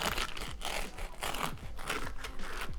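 A knife cuts through crunchy homemade Neapolitan fried street food, giving a run of close, crisp crackling crunches in quick bursts.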